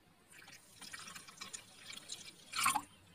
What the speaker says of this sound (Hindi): अब इसको भिगोने के लिए पानी डालते हैं।